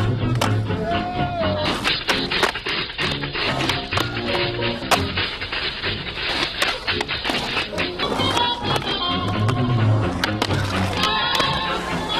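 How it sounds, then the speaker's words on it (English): Skateboard rolling and popping on curbs, with wheels grinding and board slaps and thwacks repeating over steady background music, the impacts loud and close throughout. "I could skate curbs all day long"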